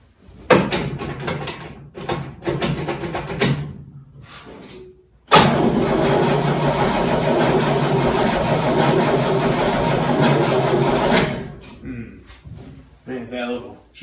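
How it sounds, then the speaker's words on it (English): A 1969 Pontiac Firebird, unstarted for nearly 20 years, cranks in uneven bursts, then catches and runs steadily and loud for about six seconds before shutting off. "So it's going to crank for a little before it gets to go, but make sure it's in neutral here and hit the key."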